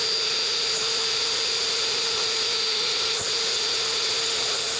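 A power buffer spins steadily against a tobacco pipe, giving a constant high whirring drone with a faint hum, close and unbroken throughout, with no talking.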